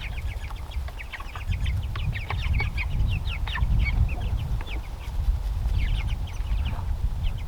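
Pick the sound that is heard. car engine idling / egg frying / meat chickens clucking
meat chickens clucking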